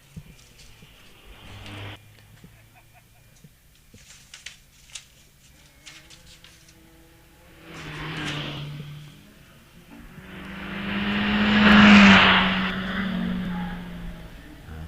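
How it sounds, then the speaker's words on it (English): A Mazda MX-5 NC races up a hillclimb course, its engine rising from far off into a loud, close roar that peaks and then fades. Quieter engine noise and scattered clicks come before it, with no talking. "It's the Mazda MX-5 NC with Peter Smith at the wheel, running as 137."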